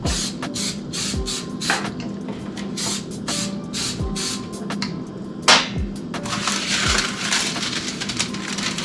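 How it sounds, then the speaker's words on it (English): Repeated short hissing bursts of cooking spray on baking pans, close up, coming in quick pulses with brief pauses and occasional clatter of pans. "I'm just gonna lightly spray my pans."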